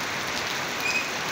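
Afternoon rain falls steadily on surfaces as a dense, even hiss of drops, close and constant throughout with no voices.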